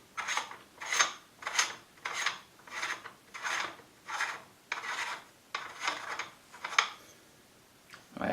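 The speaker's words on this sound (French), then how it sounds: "Là, c'est le cache-flamme que je vais visser." Metal flash hider being screwed onto the muzzle of a Tokyo Marui M40A5 airsoft rifle, giving about a dozen short, evenly spaced rasping scrapes of threads turning, close and moderately quiet with no talking.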